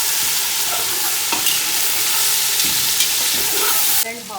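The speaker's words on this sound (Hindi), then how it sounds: "ये थोड़ा सा हम अब चिकन को भी गोल्डन करेंगे।" Chicken pieces fry loudly in a pot of hot oil, a steady dense sizzle with scraping stirs throughout, louder and closer near the end.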